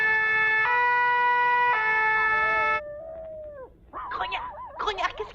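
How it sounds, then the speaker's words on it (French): A fire engine siren in an animated cartoon sounds a loud, steady two-tone wail, then slides downward and fades. Several short, warbling animal-like calls follow. "comme une sirène de pompiers"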